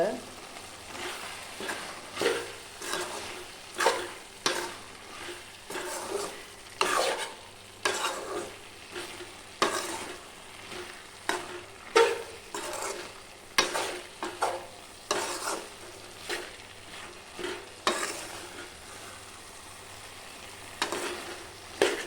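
A spatula stirs brinjal stir-fry with fresh coriander in a pan with a little oil, making repeated rhythmic scraping strokes over a soft, continuous sizzle, close and fairly quiet.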